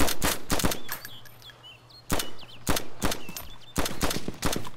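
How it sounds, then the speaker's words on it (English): Gunfire in the video game DayZ: several sharp bursts of shots, some in rapid clusters, ring out loud against a quiet outdoor ambience with faint bird calls between volleys. "Someone's shooting at me."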